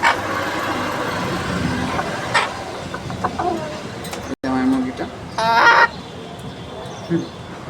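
Chickens and roosters in a backyard flock cluck in scattered bursts, with a louder call near the end over a busy background and some talking.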